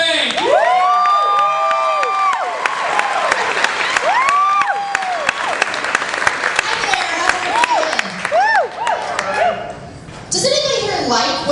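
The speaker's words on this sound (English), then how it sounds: "Everyone clap it together for Laurie Fank!" A comedy club audience in Kansas City claps, cheers and whoops loudly as a stand-up comedian is introduced, with shouts and excited voices riding over the steady applause.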